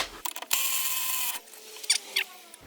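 A seized bolt on a rear shock absorber grinds and creaks as a wrench turns it after penetrating oil, giving a long strained screech and then short squeaks, close up with no talk.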